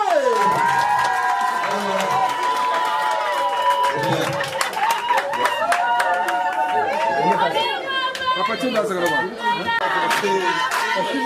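Guests at a customary dowry wedding in Brazzaville cheer, chatter and shout in a lively crowd. Scattered applause and clapping run under loud overlapping voices and whoops throughout.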